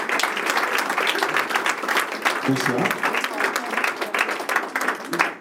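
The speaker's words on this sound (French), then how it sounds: "Et on les applaudit parce que ce sont des nouveaux partenaires de l'association." An audience at a cocktail event applauds new partners of an association, with steady dense clapping filling the room while a voice briefly speaks over it.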